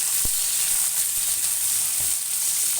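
Sliced onion and a couple of green chillies frying in hot oil for a paneer vegetable kurma, a loud continuous close sizzle with a couple of faint knocks.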